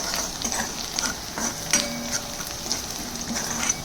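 Turmeric being stirred into a pan of spine gourd vegetable curry, with a soft steady sizzle and faint spoon scrapes and light clinks against the pan, close and fairly quiet.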